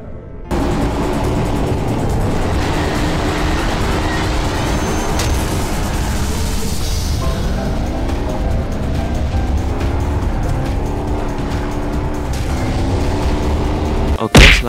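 Roadkill car's engine in Rumble Racing on PS2, a loud continuous arcade motor roar with revs climbing and sweeping in pitch, ending in a sudden burst.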